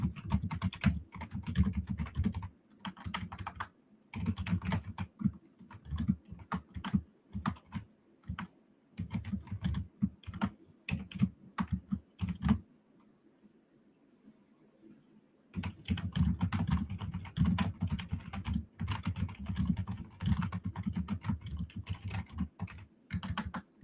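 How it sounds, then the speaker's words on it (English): Typing on a computer keyboard, close and clear, with rapid bursts of clicking keys that pause briefly in the middle and then resume. "I'm just typing in Discord real quick."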